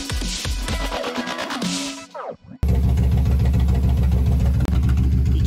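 A freshly tuned and serviced Harley-Davidson motorcycle engine idles close by with a loud, steady low throb, broken by a brief dip after a rougher opening passage.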